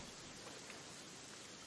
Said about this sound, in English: Pouring it down with rain.